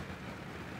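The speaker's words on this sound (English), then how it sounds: "The way it's moving sounds like a tank." A tank rumbles in the Hell Let Loose game, a steady low, broad engine drone holding even and moderately near for the whole short stretch, with no talk over it.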